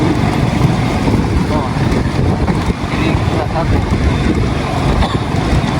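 Strong, steady wind roaring and buffeting the microphone over open sea during a storm, with a continuous rushing noise throughout and a voice faintly present.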